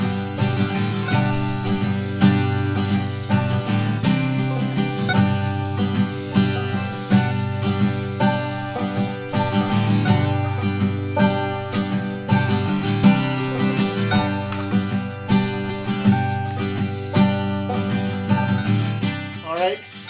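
A coat of spray paint goes onto a car's replacement wheel arch during a rust repair, a steady airy hiss that runs under loud background music.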